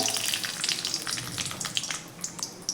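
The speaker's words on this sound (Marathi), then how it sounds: "आता आपण त्यामध्ये मोहरी घालूयात" Mustard seeds sizzling and popping in hot oil in a pan, a loud, steady crackling fry with scattered sharp pops close by.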